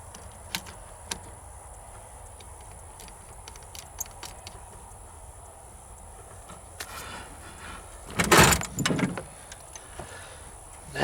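Pickup truck door clicking open and thumping shut outdoors at night among buzzing mosquitoes, a brief loud burst of latch and slam sounds after several seconds of quiet ambient noise with scattered small clicks.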